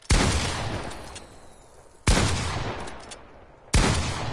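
Three loud, sharp blasts from a pump shotgun in the video game Fortnite, spaced about two seconds apart, each with a booming decay and no talking.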